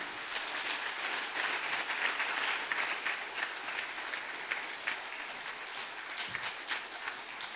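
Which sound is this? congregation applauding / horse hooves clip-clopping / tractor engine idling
congregation applauding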